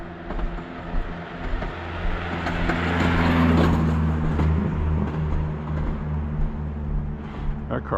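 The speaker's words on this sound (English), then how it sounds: "Something very mechanical going wrong with that car with the drivetrain." A car with a badly failing drivetrain passes on a night street, giving a rough mechanical rumble and grinding that builds, peaks in the middle and fades away.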